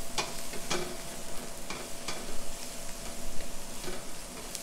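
White fish sears in a hot pan alongside shallots, giving a steady close sizzle and frying crackle with small pops, and no one speaks.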